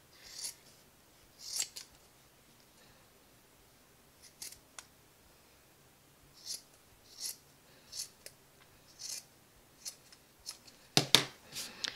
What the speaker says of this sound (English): What I'm doing right now is I am just cutting the excess fabric.